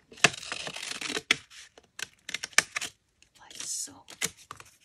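Scissors cutting through altered sewing pattern paper for junk journal ephemera, a run of close crisp snips and rustling crinkles in uneven bursts with short pauses between cuts.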